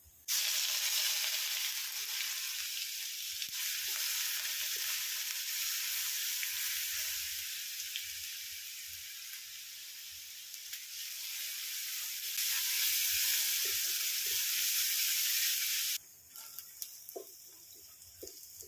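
Crushed ginger, garlic and green chilli hit hot coconut oil for a Chinese potato pickle, setting off a loud, continuous close sizzle that eases slightly, swells again, then drops abruptly to quieter crackling.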